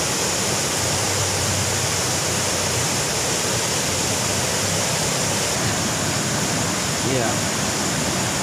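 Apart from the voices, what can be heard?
waterfall at Gunung Banteng, Kalimantan forest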